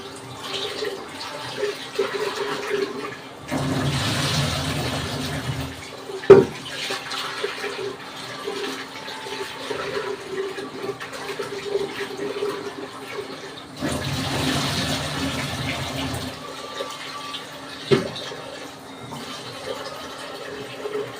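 Tap water runs steadily while lentils (dal) are washed in a home kitchen. The rushing flow swells twice, and there is a sharp knock partway through. No one speaks.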